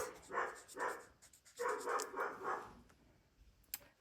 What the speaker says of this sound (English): Sorry about my puppy dogs.